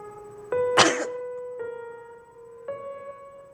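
A single sharp cough rings out close by over sustained, droning musical tones that shift pitch a few times.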